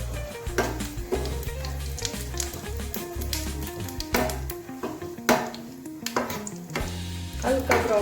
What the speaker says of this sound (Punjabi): ਹੁਣ ਇਹਦੇ ਵਿੱਚ ਪਾਵਾਂਗੇ ਆਪਾਂ ਤੜਕਾ ਲਗਾਉਣ ਲਈ ਮਿਰਚ